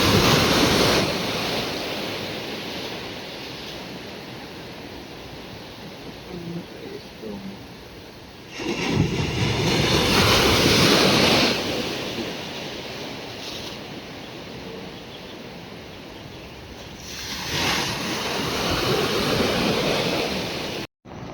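Ocean surf on a beach at El Nido, Palawan, with waves breaking in loud rushing surges every several seconds over a constant hiss of water and wind buffeting the microphone.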